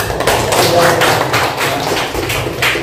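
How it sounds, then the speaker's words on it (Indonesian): A class of students claps together in a lesson setting, loud close applause with pulsing bursts of hand claps running the whole time. "kita beri aplaus dulu"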